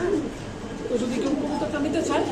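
American pigeons with indigo-coloured plumage coo in low, rolling phrases that repeat steadily and close by, with a busy background of other birds and human voices murmuring underneath.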